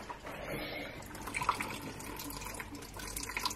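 Coolant water running and dripping from the cooling system of a Golf car near the water pump, a soft continuous trickle with a few faint drips, quiet and close.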